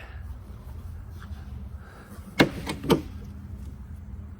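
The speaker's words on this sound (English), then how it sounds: "doors close great" The door of a 1967 Rolls-Royce Silver Shadow shuts with two firm, close thumps about half a second apart against a quiet background.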